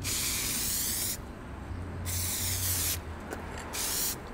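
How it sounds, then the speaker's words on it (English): An aerosol can lays light coats of ceramic coating on a turbo M50 engine part for an E30. Three loud, close bursts of hissing spray, each about a second long, are separated by short quieter gaps. "I'm gonna do two light coats like that and start spraying."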